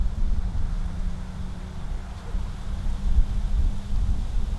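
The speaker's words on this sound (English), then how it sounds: "Lots of wind out here." Steady low wind buffets and rumbles across the microphone on an outdoor disc golf course in Las Vegas, a continuous broad roar with slight gusting swells throughout.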